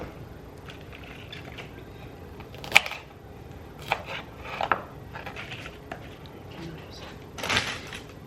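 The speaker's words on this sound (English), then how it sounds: "cut them down to more manageable bite-sized pieces" A knife cuts broccoli into bite-sized pieces on a board, giving a few sharp, sparse chops and knocks at close range under a speaking voice.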